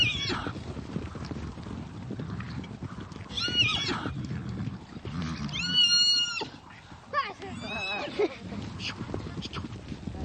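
Horses whinnying in short harmonic bursts over a rumbling herd-like background, with neighs rising at several points among continuous low activity; a narrator's voice runs alongside.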